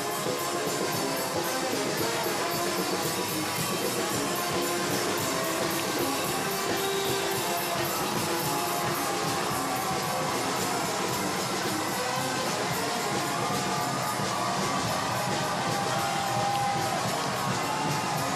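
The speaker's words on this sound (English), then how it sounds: "Boy, the crowd's just into this. They're just screaming at the top of their lungs." A Mardi Gras parade crowd in Mobile screams and cheers continuously, a dense loud roar of whoops and yells from many people throughout.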